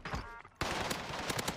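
XM4 assault rifle fire in the shooter Warzone on the Rebirth map: after a brief quieter lead-in, loud, dense rapid bursts of automatic gunfire ring out close up, shot after shot, with no pause.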